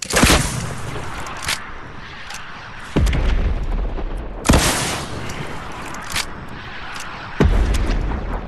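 Heavy booming blasts from RPG explosions in a video game, three or four loud close impacts spaced a few seconds apart, each followed by a rumbling tail.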